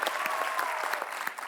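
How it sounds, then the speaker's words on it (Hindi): A studio audience at The Kapil Sharma Show applauds a guest's entrance, a brisk dense burst of clapping lasting under two seconds with a faint tone running through it. "तो आप सबकी जोरदार तालियों के बीच इनवाइट करना चाहूंगा the very beautiful and talented"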